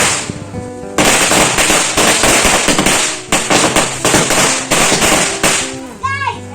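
A loud, rapid string of firecrackers bursting at a birthday celebration in a continuous crackling barrage, with brief pauses and voices faintly around it before it ends.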